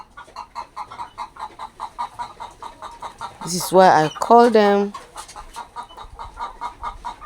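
Layer hens on a poultry farm cluck in a short, loud burst of rising, squawking calls, with someone talking before and after.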